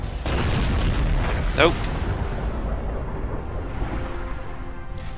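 A starship rams another vessel in a Star Trek video game, setting off a loud, deep explosion that rumbles and fades over several seconds, with a brief spoken word over it.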